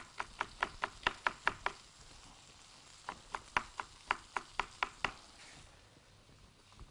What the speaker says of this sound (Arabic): قطعنا البصل، هنقطع الفلفل، اي نوع فلفل، فلفل حار او بارد